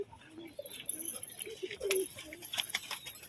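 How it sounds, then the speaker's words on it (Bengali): A pair of pigeons in a loft coo nearby, a few soft, low throaty calls spread over a few seconds, with light rustling and faint background noise. "এই যে সামনে দেখেন এই যে ডাক করছে দেখুন আমাদেরকে দেখে পুরো গরম পায়রা"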